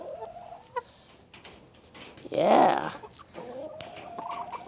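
Chickens cluck and squawk close by in a backyard while someone feeds lettuce to the birds, with a louder burst of clucking in the middle and a brief spoken word over it.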